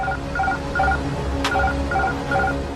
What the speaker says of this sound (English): an alarm is triggered.